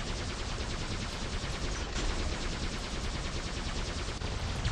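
The Blitz robot in War Robots lets off weapon fire as a dense, continuous stream of rapid shots with no breaks, loud and steady throughout, with no talking.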